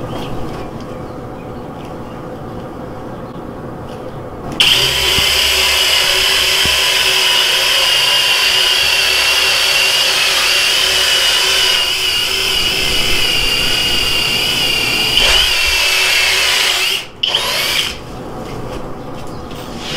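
A Flex Turbo FX1271T cordless hammer drill in drilling mode at speed 3 with a full battery: a loud, steady high-pitched motor whine with grinding rasp, running continuously for about twelve seconds before cutting off, then a brief restart.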